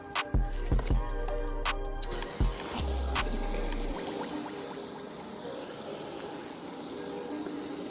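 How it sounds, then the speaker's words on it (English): Water sprays steadily onto a Basenor 3D floor mat for a Tesla Model 3 in a close, continuous hissing rush, after a few brief knocks and thumps at the start. "let's just give it a quick rinse"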